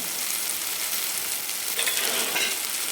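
Chicken masala sizzles and fries steadily in a hot pan while a spoon stirs it, with a few scraping bursts near the end and no talking.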